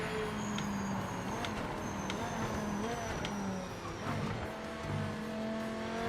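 Race car engine in the Project Motor Racing video game, a Viper, droning steadily with shifting revs and gear changes, loud and continuous throughout, with a voice talking over it.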